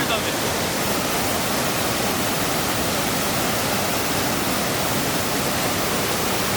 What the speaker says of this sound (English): This waterfall is just ginormous. A lot of water going through.